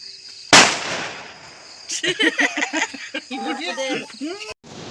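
One sharp, loud firecracker bang goes off nearby at a birthday celebration, followed by people talking and laughing.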